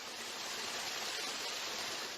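Artificial indoor waterfall in a hospital, a steady broadband rush of falling water that holds even and continuous throughout, close and moderately loud with no voices.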